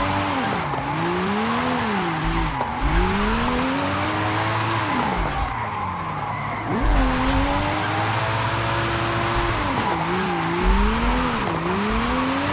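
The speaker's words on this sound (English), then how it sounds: "Alright, let's drift around this giant circle." A 2021 Bentley Flying Spur tuned to 1750 hp drifts around a large circle in Forza Horizon 5, with a loud engine wailing up and down in repeated surges and sustained tire squeal throughout.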